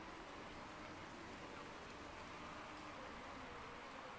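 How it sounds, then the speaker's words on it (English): Steady rain from the Motorsport Manager racing game, a dense, even wash of hiss with no distinct drops or voices, holding constant at a fairly quiet level throughout. "I don't know if it's going to completely stop raining or not"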